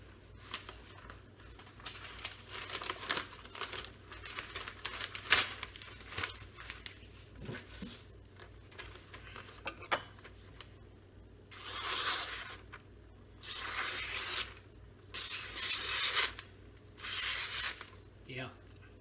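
Freshly convex-sharpened Bark River Santos knife slicing through paper in a few bursts of crisp crinkling and rasping cuts, close and moderately loud, with quieter handling rustles in between.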